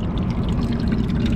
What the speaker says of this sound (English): That starts running this pump right here,